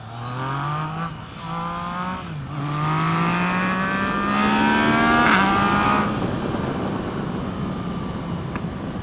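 A Yamaha FZ-09 motorcycle engine revs up through its RPM range, a loud close tonal drone that climbs, dips briefly, then rises and holds high before easing off, with no talking.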